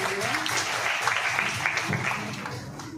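An audience in the Nehru Hall auditorium applauds at a book event, steady dense clapping that fills the whole three seconds with a murmur of voices underneath.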